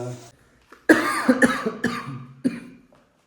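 A few sharp, close coughs in quick bursts, with short rough breaths between them and no talking.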